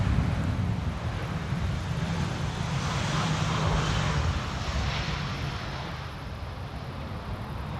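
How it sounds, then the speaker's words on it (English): Airbus A319 airliner on a crosswind approach to the Polderbaan runway at Amsterdam Schiphol, heard as a loud continuous jet engine roar that swells slightly and then eases, with rumbling low tones and wind noise. "This is an A319."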